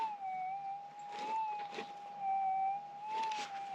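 A Minelab GPX 6000 metal detector sounds over a gold nugget buried in caliche dirt beneath a dead bush, giving a faint, steady electronic tone that wavers slightly in pitch, with soft scraping noise behind it and no speech.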